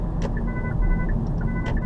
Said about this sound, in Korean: 그래서 후측방 경보 장치가 달려 있기는 한데